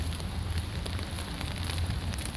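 Rain falls during a walk along a harbor near a tiki bar, making a steady, close hiss of droplets over a low, continuous rumble, with no voices.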